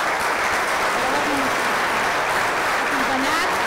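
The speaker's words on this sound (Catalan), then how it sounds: "Enhorabona, un aplaudiment per ells." An audience at an exhibition opening about Montserrat's thousand years of art and history applauds, a dense continuous wash of clapping, steady and close throughout.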